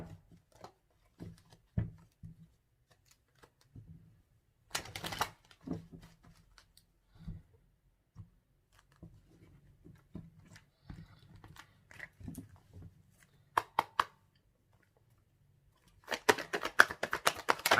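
Romance angel cards handled and shuffled close by, with soft scattered taps and flicks, a few sharper riffles, and a dense burst of card noise near the end.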